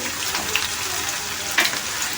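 Pieces of young jackfruit fry in hot oil in a pan for a korma, giving a close, steady, loud sizzle that continues throughout.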